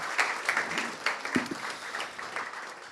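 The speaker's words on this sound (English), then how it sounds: "One more round of applause, please." Applause from a small meetup audience, a thinner, uneven patter of clapping with a few distinct hand claps standing out, fading over a few seconds.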